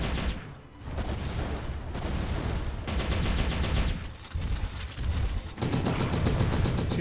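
An ice Gatling gun and missiles fire in M.A.S.S Builder, a loud, continuous barrage of rapid shots and blasts with brief dips and surges and no pause in the fire.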